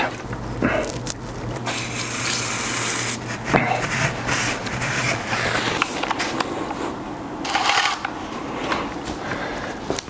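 Engine oil draining from a BMW E91 335d, a soft steady trickle and splash under the car, mixed with faint clinks and handling noises close by.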